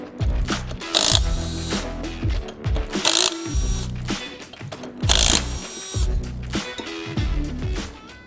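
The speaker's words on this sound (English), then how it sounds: "you're gonna want a nice cordless impact or a pneumatic impact to be able to get those off" An impact wrench, cordless or pneumatic, hammers loose flywheel bolts in several sharp, loud bursts of rapid rattling, separated by pauses and lower whirring as the tool spins down.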